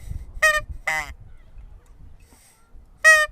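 Three short honks from a hand-blown Canada goose call, each a bright harmonic burst, the last one loudest, with low rumble and background noise between them.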